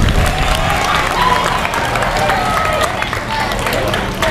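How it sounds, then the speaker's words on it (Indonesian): A school crowd at an outdoor morning assembly gives loud, steady applause that fills the whole stretch, dense clapping mixed with murmuring voices and babble. "beri tepuk tangan dulu, beri tepuk tangan dulu"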